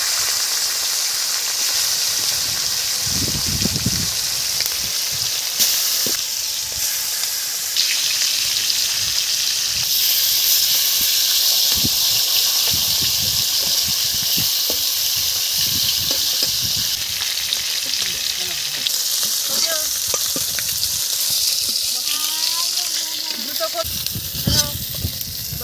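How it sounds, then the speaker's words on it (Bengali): Cumin seeds and onion frying in hot oil in a Bengali home kitchen, a steady, close hiss and sizzle that holds throughout, with occasional stirring clatter and a voice talking over it. "জিরে ফোড়ন দিলাম, পেঁয়াজ দিয়ে দিলাম।"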